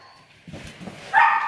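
A dog barks once sharply indoors after some faint low rustling, a short loud yelp closing out the moment.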